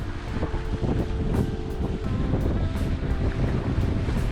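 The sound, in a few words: strong wind and waves while sailing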